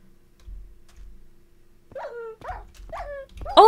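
A puppy in modded Minecraft gives a few short whimpering yelps in a quick run, close and fairly loud, after soft thuds and near silence.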